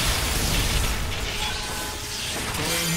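An artillery bombardment in the video game Fate/Extella Link, a continuous roaring wall of explosions and booming rumble with mechanical rattling, loud and sustained throughout with no voices.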